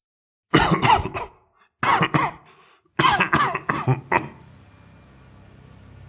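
Bursts of coughing and throat clearing in a Bengali horror cartoon come in three clusters of sharp hacking coughs with short silences between them, then fading into a quiet low hum.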